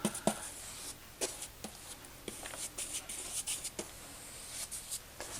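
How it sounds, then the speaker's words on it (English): A paintbrush cutting finish onto a hardwood floor along a wall, giving soft, close bristle swishes and scrapes in short repeated strokes, with brief taps of the brush between passes. "I'm just going to take my brush and kind of cut some of this in quickly along this wall."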